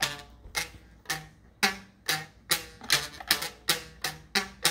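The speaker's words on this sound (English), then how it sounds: "And then you have your own little guitar for your homemade instrument band." Strings on a homemade toy guitar plucked one at a time, about a dozen bright, twangy notes with quick decays in a loose, steady rhythm, close and alone.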